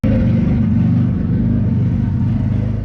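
A 1992 Mitsubishi 3000GT running with a newly installed exhaust and its catalytic converter cut out: a loud, deep, steady engine rumble idling close by with no talk.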